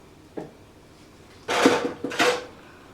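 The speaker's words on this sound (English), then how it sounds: "I'm just going to mix it up." A utensil scrapes and clinks in a bowl while mixing seafood breading mix and flour for deep-fried oysters and shrimp, one brief knock followed by two longer scraping strokes, close and fairly loud.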